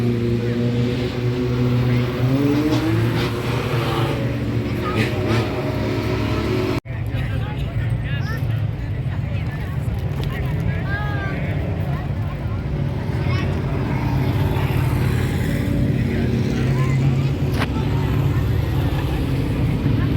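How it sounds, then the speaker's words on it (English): A super truck circles the Georgetown Speedway track during a track packing session, its engine a loud, steady roaring drone that rises and falls throughout, with an announcer speaking over it. "The super truck's out on the track"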